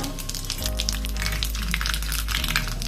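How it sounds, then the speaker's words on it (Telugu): Mustard seeds and cumin fry in hot oil for a dal tadka, giving a loud, continuous crackling sizzle with a low hum beneath it. "ఇప్పుడు దీనికి తడక వేసుకుందాం, తాలింపు వేసుకుందాం."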